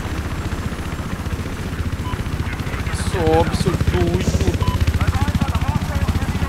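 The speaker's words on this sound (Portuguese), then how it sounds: "Tem dois helicópteros em cima do inimigo." Helicopters hovering in a Battlefield 4 multiplayer battle, a steady rotor thump running under excited talk and in-game radio callouts.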